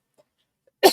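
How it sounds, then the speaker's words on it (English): A single sharp human cough bursts out near the very end after near silence, close and loud. "I have started this cough too"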